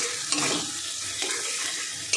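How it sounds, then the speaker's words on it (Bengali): Prawns fry with spices in a pan, giving a steady close sizzle with occasional stirring scrapes and clinks. "দিয়ে আমি মশলার সঙ্গে চিংড়ি মাছটা ভাজা করে নেব"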